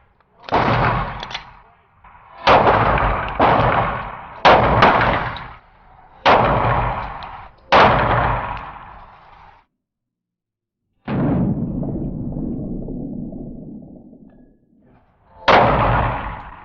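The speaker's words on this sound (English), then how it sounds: "First shots with the new and improved grip that I made." Glock 20SF pistol shots at a range: about seven sharp, loud reports, several in quick pairs, each with a short echoing tail, then a longer rumbling stretch before one last shot.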